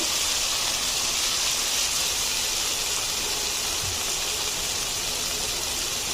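Steady broadband sizzling hiss of chopped carrots frying in a hot pan, constant and close with no talk.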